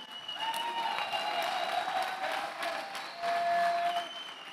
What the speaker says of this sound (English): A big round of applause for Nicholas Bradley, please.